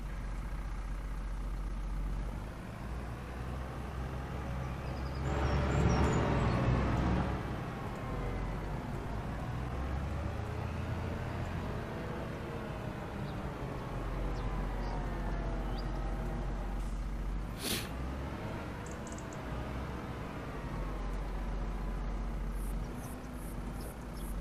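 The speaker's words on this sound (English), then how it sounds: "I think we want the smaller, slightly more maneuverable tractor." Tractor engine running in the Farming Simulator 25 video game, a steady low diesel drone with slowly shifting pitch, swelling briefly as it revs, heard alone and fairly quiet throughout.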